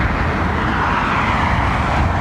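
A Lufthansa airliner at London Heathrow Airport gives off a loud, steady jet engine roar, broadband and continuous, close to the listener throughout.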